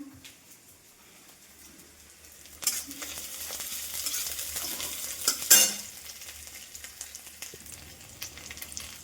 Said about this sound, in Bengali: এখানে ভাজা হয়ে গেছে, পেঁয়াজ রসুন আর মাছের মাথাটাও দিয়ে দিয়েছি